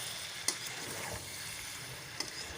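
Chicken gizzard and liver being stir-fried with potatoes and spices in a pan, a steady close sizzle with a couple of sharp utensil clinks against the pan, no voices.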